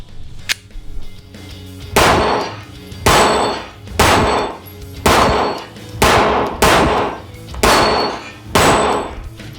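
A Glock 26 compact pistol fires about eight shots at steel targets in a steady, evenly spaced rhythm, each loud report followed by a ringing metallic clang, with no talking.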